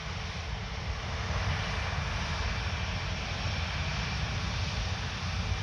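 An Air France Airbus A320 jet taking off at Paris Orly airport, a steady broad engine roar holding constant throughout, fairly distant and moderately loud, with no voices.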